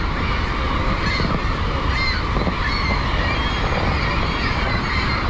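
Crows caw in short harsh calls at Niagara Falls near the Cave of the Winds, over the steady, loud roar of rushing falls water that fills the whole clip.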